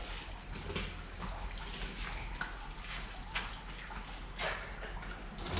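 Water drains from the removed 1600 crossflow engine of an old Ford Capri, pouring and splashing steadily nearby, a continuous trickling rush with faint knocks and gurgles, no voices.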